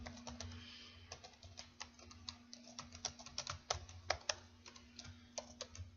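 Typing on a computer keyboard, a quiet, steady patter of close key clicks with irregular rhythm over a low electrical hum, no voices.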